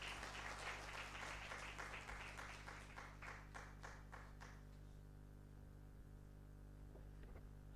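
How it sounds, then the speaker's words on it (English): Audience applause at a nutrition and market summit welcoming a guest onto the stage, quiet and distant clapping that fades out halfway through, leaving a steady electrical hum. "Please join me in welcoming with a thundering round of applause our guest"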